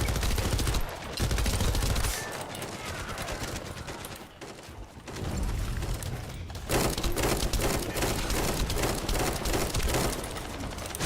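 Rapid video-game gunfire from a bunny-suited character rattles on through most of the stretch, dense bursts with a brief lull in the middle before the shooting resumes loud and continuous.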